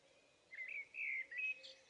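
A bird chirps in the survival video game UnReal World, a few short high whistled calls in quick succession over quiet ambience, fairly faint and alone.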